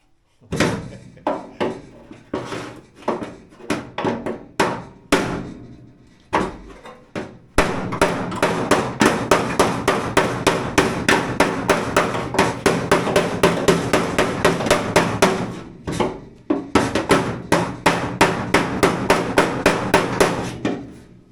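Metal is struck by a hammer over and over while reshaping the front fender of a 1963 Hillman Super Minx, first in spaced blows, then in a fast, steady pounding that runs on loudly and close.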